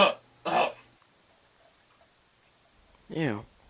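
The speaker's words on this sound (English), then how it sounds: "Better cover that up with a cough." A person coughs and clears their throat in two quick bursts, then a short vocal sound follows after a pause of quiet, all close to the microphone.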